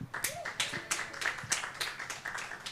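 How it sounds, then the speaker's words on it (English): An audience at the Writers Mingle 2024 literary event in Kigali, Rwanda, claps for the panelists, with distinct, fairly regular hand claps ringing out under a speaking voice. "Another big round of applause to our amazing panelists"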